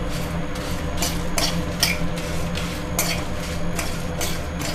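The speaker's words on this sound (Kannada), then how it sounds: "ಒಂದು ಚೂರು ಎಣ್ಣೆ ಹಾಕ್ಬಿಟ್ಟು ಕ್ಲೀನಾಗಿ ಘಮ ಬರೋವರೆಗೂ ಹುರ್ಕೊಳ್ಳಿ" Chillies and lentils roast in a little oil in a pan at close range. A spoon scrapes and stirs in a steady series of strokes over a faint sizzle, with no talking.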